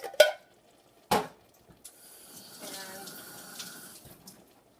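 Water poured from a tap or jug into a soup pot of coconut lentil soup with carrots, a steady splashing stream running for a couple of seconds after a few sharp clinks of a spoon or lid against the pot.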